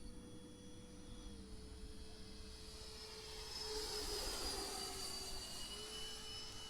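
An RC model F-86 jet airplane flies at about 60% throttle, its steady turbine whine carrying throughout and swelling a little louder midway as it passes closer.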